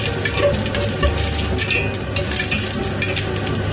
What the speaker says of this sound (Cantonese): 就擺啲乾葱同埋蒜頭落去爆一爆